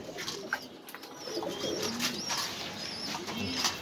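Pigeons cooing softly at a loft in Dhaka, several low rolling coos repeating through a quiet background with faint distant chirps.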